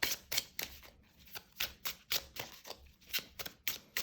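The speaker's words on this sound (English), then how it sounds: "let's give this deck a shuffle" A tarot deck, a Jack O Lantern deck of slightly smaller size, is shuffled by hand with a series of crisp, rhythmic card riffles and slaps, close and fairly quiet, with short pauses between bursts.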